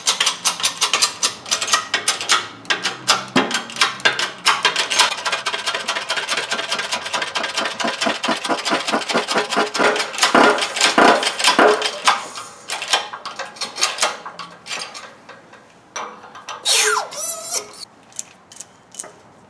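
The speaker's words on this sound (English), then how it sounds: "I'm getting ready to press the head bearing on." A press working a head bearing onto the differential carrier of an AMC 20 rear end, giving rapid loud mechanical clicking and ratcheting pulses that run steadily, then break into irregular clanks.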